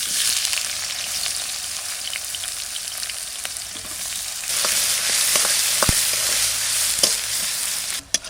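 Chopped onions fry in hot oil in a pan for a chicken dish seasoned with Himalayan timbur spices, giving a steady close sizzle with scattered crackles and pops that swell louder partway through.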